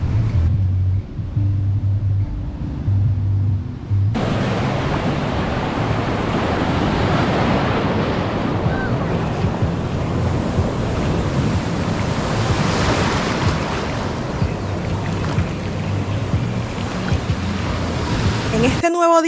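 Surf rolls onto an island beach in a steady broadband wash, with wind buffeting the microphone and faint voices beneath; the roar swells after the first few seconds and holds loud throughout.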